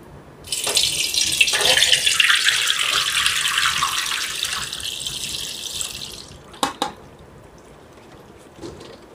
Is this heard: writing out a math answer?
no